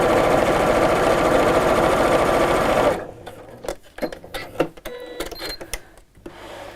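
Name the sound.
sewing machine stitching cushion fabric near piping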